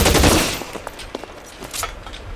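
Loud bursts of gunfire in the video game LA Noire, a heavy opening volley followed by several sharper scattered shots that fade out.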